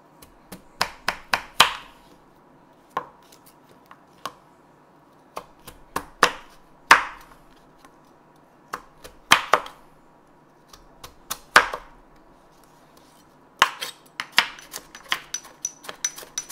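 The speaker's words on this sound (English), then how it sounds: "Now I do the same thing with this carrot. I cut it into small cubes" A knife chops a carrot into small cubes on a cutting board, sharp close taps coming in quick bursts separated by short pauses, with no talking.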